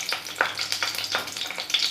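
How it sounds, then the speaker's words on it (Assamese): Dried red chillies and bay leaves fry in hot oil over a high gas flame, a close, steady sizzle with bursts of crackling and stirring. "চাওক জলকীয়াকেইটা অকণমান ভাজ খাইছে।"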